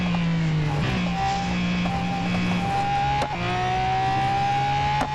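A race car in Real Racing 3 holds a steady, high engine drone through a lap, with shifts and brief pitch changes as it accelerates and downshifts. The sound is loud and continuous, with no talk.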